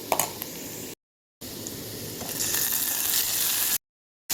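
Chopped tomato hits hot oil in a pan and sizzles steadily, the crackle building slightly louder midway, close up, with two brief silent gaps and no talking.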